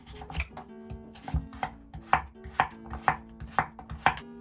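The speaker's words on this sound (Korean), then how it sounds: "무는 먹기 좋은 크기로 썰어주세요." A knife chops radish for beef soup on a cutting board in a steady series of firm, close knocks, about two per second, with no talking.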